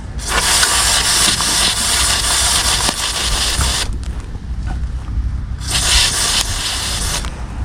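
Cleaner is sprayed onto a truck engine part in two long, loud hissing bursts separated by a short pause, with a faint engine rumble underneath.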